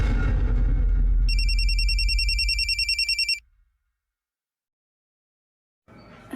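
A telephone bell rings in rapid repeated trills over a loud low rumble, then stops abruptly into silence before another sound starts at the end.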